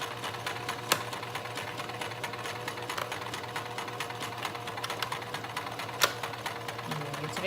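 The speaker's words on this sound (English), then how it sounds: "So take it over here to the sewing machine." A sewing machine stitches fabric with a steady, fast mechanical whir and chatter that runs close and continuous, broken by a couple of sharp clicks.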